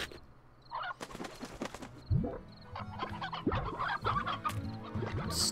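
Stony hen from Slime Rancher clucking in short bursts of cartoonish calls, moderately close and fairly quiet, with light game ambience underneath and no talking.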